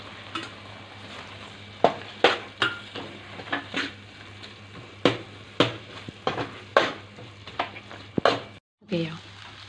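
A spoon mixes cooked rice with oil and salt for mint pulao in a pan, making a regular series of sharp scraping strokes roughly every half second over a faint frying hiss.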